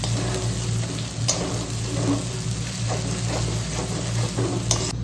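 Masala seasoned with salt for a Bengali crab curry fries in a pan under constant stirring, giving a dense, close sizzle broken by periodic scrapes and taps. No one speaks.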